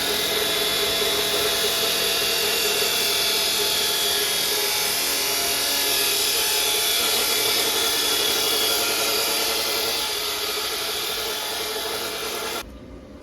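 Power tool, likely an angle grinder, cutting the top off a metal loop for a clothesline post, a steady loud broadband grinding whine running continuously for about twelve seconds, then stopping abruptly.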